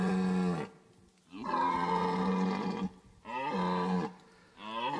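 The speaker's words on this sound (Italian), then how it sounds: "I cervi a ottobre lanciano i loro bramiti d'amore." Red deer stags bellow during the October rut, giving a series of long, deep, harsh roars with short pauses between them, loud and carrying, with no talk.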